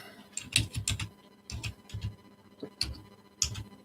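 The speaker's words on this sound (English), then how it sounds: "I'm typing one now." Keys clattering on a computer keyboard in short bursts of close, crisp clicks separated by brief pauses.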